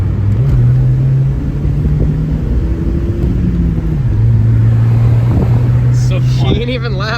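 Volkswagen Jetta with a muffler delete, warm engine revving: a steady low exhaust drone with rising and falling pitch as the throttle blips, loud and close, with people talking over it.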